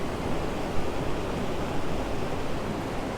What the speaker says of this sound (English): right down here there's a waterfall